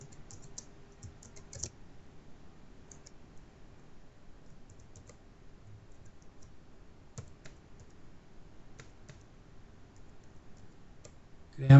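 Typing on a computer keyboard with an English layout, a steady patter of soft key clicks with occasional louder taps, fairly close and with no talk over it.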